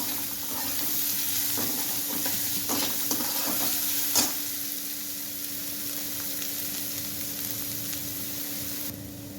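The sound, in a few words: chopped onion and curry leaves frying in hot oil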